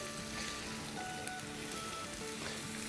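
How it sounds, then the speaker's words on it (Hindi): Green chillies sautéing in a hot pan over a high flame for chicken jalfrezi, giving a steady, bright sizzle and crackle that continues evenly throughout with no talking. "ये सारी इसमें डाल देंगे। आप फ्लेम को हाई कर देंगे और इसको सौटे करेंगे।"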